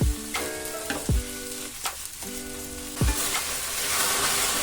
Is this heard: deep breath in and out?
no